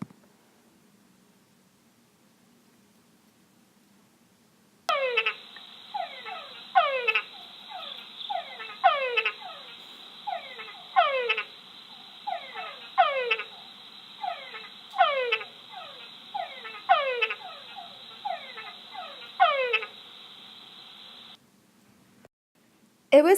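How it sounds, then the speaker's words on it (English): Chungara frog mating calls repeat about ten times at a steady rhythm, each a descending whine ending in a low chuck, clear and close against a quiet background. "the Chungara frog adds a low-frequency chuck to the end of the call"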